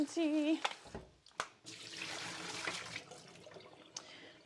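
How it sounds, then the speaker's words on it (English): Vegetables for chicken wraps rinsed under running water; a voice talks briefly at the start, then a steady splashing flow of tap water runs with a few sharp knocks. "So give them a little bit of a rinsey."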